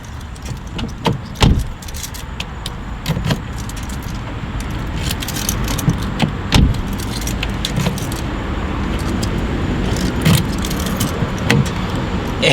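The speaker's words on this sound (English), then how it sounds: "Now I'm gonna lock the door real quick." Keys jangling near a car while its door is locked, with repeated metallic rattles and clinks over a steady background rumble of nearby traffic, close and fairly loud.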